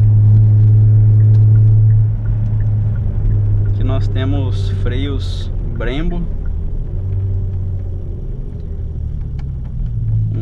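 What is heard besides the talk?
Kia Stinger GT V6 biturbo engine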